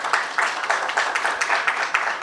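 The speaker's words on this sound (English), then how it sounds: "she deserves a bigger applause" Brief applause from a conference audience at an HR conclave in Indore, a quick run of distinct claps at a steady rhythm, close and clear with no talking.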